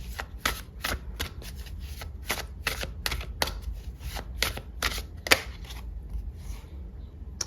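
A Lenormand card deck is shuffled for a tarot reading: a long series of crisp, close riffling snaps in an uneven rhythm over a low, quiet background hum.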